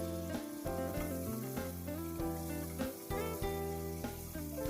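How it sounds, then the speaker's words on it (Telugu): Cut beans and potato pieces stirred into softened frying onions for foxtail millet pulav, a continuous close sizzle with repeated stirring scrapes and clanks of a utensil in the pan, no talking. "ముందుగా కట్ చేసి పెట్టుకున్నటువంటి బీన్స్, పొటాటో ముక్కలు వేసుకొని మిక్స్ చేసుకోవాలి"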